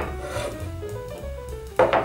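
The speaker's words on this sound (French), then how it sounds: "On va faire de même avec les olives, donc couper grossièrement" A knife coarsely chopping olives on a cutting board, soft rubbing scrapes followed by a couple of crisp close chops near the end.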